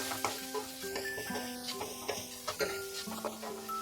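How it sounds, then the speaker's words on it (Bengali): Amaranth stems fried with turmeric and salt sizzle softly as they are stirred in the pan, with light scraping under faint tonal background music. "এবার এই ডাটাগুলোকে আমি ফ্রাই করব মশলার সাথে মেশাতে মেশাতে।"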